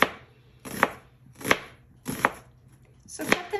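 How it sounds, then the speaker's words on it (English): A knife chopping a medium onion into thin strips on a board, five crisp separate cuts at an uneven, unhurried pace, close and clear with no talking. "Then I'm going to take a regular medium-sized onion, cut it in half, and we just want little"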